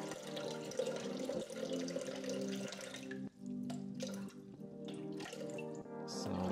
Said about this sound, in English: we will need 500 grams of water, which we're gonna pour inside